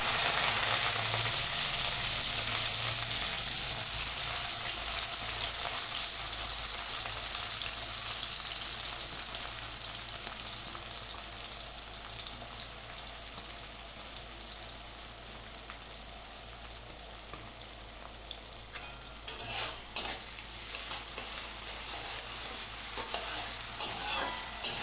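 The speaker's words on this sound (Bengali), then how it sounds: "তেল আমার গরম হয়ে গেছে। এবারে এর মধ্যে দিয়ে দিই যে পেঁয়াজগুলো কেটে রেখেছিলাম, সেই পেঁয়াজগুলো।" Chopped onions fry in hot oil for Maggi noodles with egg and vegetables, a steady dense sizzle throughout with a few louder stirring scrapes near the end and no voices.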